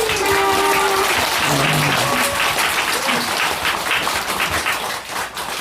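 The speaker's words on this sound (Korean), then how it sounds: "신인님께 감사의 큰 박수 올립니다." A large audience claps loudly and steadily at a Haneulgung religious gathering, the dense applause holding for several seconds with faint tones and voices underneath before tapering slightly at the end.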